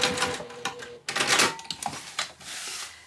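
A sewing machine runs across a fabric pouch seam and then back stitches, giving a fast mechanical clatter in short bursts with brief pauses between them, close and fairly loud.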